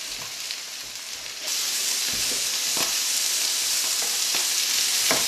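Mushrooms fry alongside Spam in a pan, a steady close sizzle that grows louder after the first second and a half, with faint clicks of stirring scattered through it.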